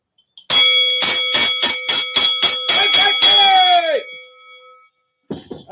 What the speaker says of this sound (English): Sound the fight bell.